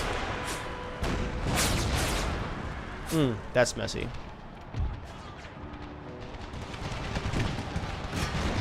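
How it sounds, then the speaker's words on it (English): Cannons in the Empire: Total War video game, running a Brothers vs. Brothers mod, fire canister shot in a series of booming blasts amid other battle gunfire. Someone talks between the shots. "Cannons, fire canister shot into the fight."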